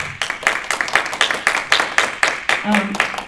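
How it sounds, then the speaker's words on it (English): Audience at a fan fiction reading event clapping in steady, evenly spaced rhythmic claps, moderately close, with a brief voice near the end. "Give yourselves a round of applause."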